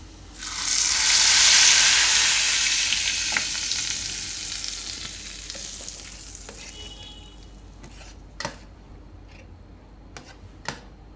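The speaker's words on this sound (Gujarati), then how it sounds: "આ વઘાર આપણે દાળ ઉપર નાખી દઉં." Hot Gujarati tempering of oil and asafoetida poured over cooked dal for a dal bhaat kadhi meal gives a loud, bright sizzle that swells fast, then fades into a softer crackle with a few sharp clicks near the end.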